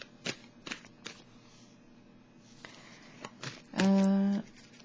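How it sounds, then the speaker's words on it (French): Tarot cards are shuffled in quick, crisp riffles and snaps, with a few separate flicks as cards are drawn, close and fairly clear, and a voice speaks briefly near the end. "Je vais piger une autre carte du tarot psychique."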